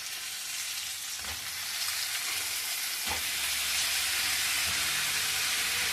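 Brinjal and green chillies fry in a pan with a steady, close, loud sizzle, broken by a couple of soft stirring knocks.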